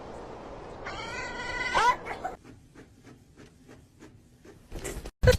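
A cat lets out one drawn-out, wavering meow up close, followed by quiet rhythmic tapping and a couple of louder knocks.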